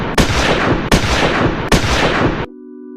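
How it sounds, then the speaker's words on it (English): Three loud, close gunshots in a shooting, each a sharp blast that rings out for most of a second before the next, then an abrupt cutoff. "The gunman continues shooting."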